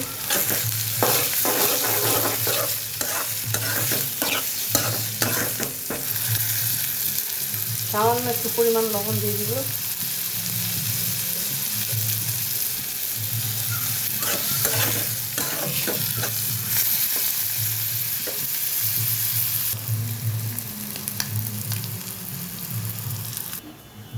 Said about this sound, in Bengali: চিংড়ি মাছটি তেলের সাথে ভাজা ভাজা করে নিতে হবে